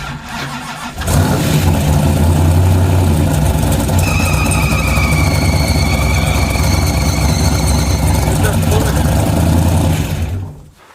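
A 1969 Pontiac Firebird engine catches and runs loud and close, a steady rough mid-pitched drone with a whining tone riding on top, cutting off abruptly near the end.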